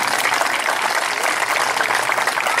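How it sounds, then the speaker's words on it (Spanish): An audience applauds the team behind the Uruguayan film El empleado y el patrón at a presentation night, a steady, dense wash of clapping filling the room without pause. "el aplauso para vos y para todos los que integraron esta gran película"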